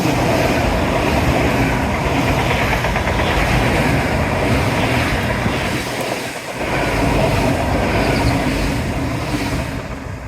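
A train rumbles past close by, loud and steady with rattling wheels, its noise dipping briefly before surging on.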